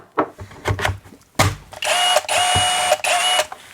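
A budget Seyvum 20V cordless 1/2-inch impact wrench starts with a few short clicks and taps, then runs in sustained motor whines broken by brief pauses, close and fairly loud.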